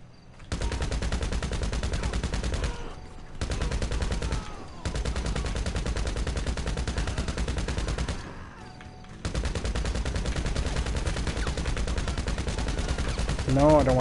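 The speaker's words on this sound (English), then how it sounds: "I don't like the sound of shotguns too much" Gunfire in the video game GTA, sustained and dense, runs almost unbroken for the whole stretch. It drops out in a few short gaps before resuming at the same steady, loud level.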